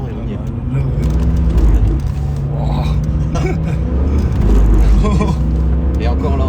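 BMW M3 E46 driving on snowy, icy ground, a loud steady engine rumble with low harmonic drone and surges as it's steered, heard from inside under ongoing conversation.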